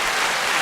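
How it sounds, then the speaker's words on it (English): A small group in a casual salon setting gives a quick burst of applause, a brief, fairly loud patter of clapping lasting under a second. "Can we get a clap for that really quick?"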